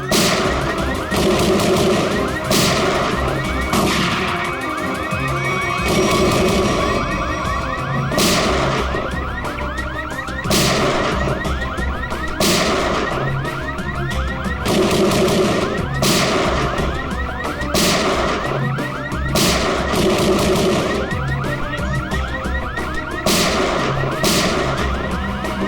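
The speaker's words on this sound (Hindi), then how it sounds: "ये गोली कहां से चल रही?" Repeated gunshots in a CID television crime-drama episode, sharp bursts recurring every couple of seconds over a continuous background of music and effects, with a steady alarm-like tone running underneath.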